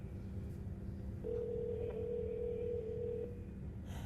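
A phone rings unanswered in a horror short film, heard as a faint, steady electronic tone held for about two seconds over a low background hum.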